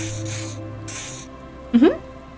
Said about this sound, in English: He doses you with the odd-smelling spray, a double helping as you present your other armpit